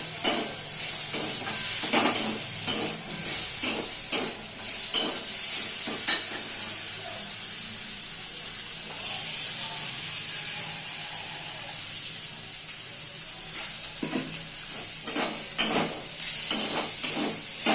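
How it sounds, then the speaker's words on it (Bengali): Spices frying in a pan with cumin powder and a little sugar for a koraishaak (pea shoot greens) dish, a steady close sizzle and hiss broken by repeated scraping stirs, with no talking. "আমি এর মধ্যে অ্যাড করব একটু জিরে পাউডার, অল্প একটু চিনি, আবারও ভালো করে মিশিয়ে নেব"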